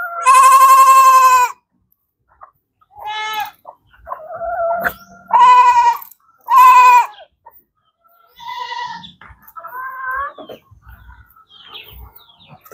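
Goats on a farm bleating loudly and close, several separate calls in irregular bursts with quiet pauses between, and some softer animal sounds among them.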